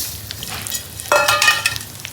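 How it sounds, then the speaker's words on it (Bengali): Thin rice grains are fried in hot oil, giving a crackling sizzle with bursts of stirring and scraping. The sizzle swells sharply about halfway through, close and fairly loud. "এখন হচ্ছে চালটা তেলে দেওয়া হচ্ছে তেলে দেওয়ার পরে ভাজবে"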